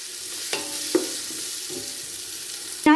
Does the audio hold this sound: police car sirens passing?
no